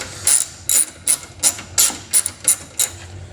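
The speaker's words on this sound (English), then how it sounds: "now I'm going to show you how to use the ratchet" A ratchet wrench clicks in short bursts while loosening grille fasteners on a 2010–2011 Toyota Camry SE, about eight quick, close metallic ratcheting strokes in a steady rhythm.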